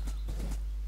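Horse hooves clip-clop in Minecraft, three soft, evenly spaced hoof thuds over a steady low hum, close and fairly quiet.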